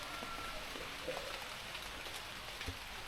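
Rain falls steadily during mangosteen harvesting in Trat province, Thailand, a soft, even hiss of drops, faint and continuous, with no voices.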